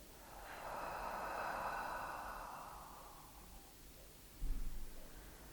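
A person breathes during a neck and head massage, with one long, airy exhale through the mouth followed by quieter breathing and a soft rustle.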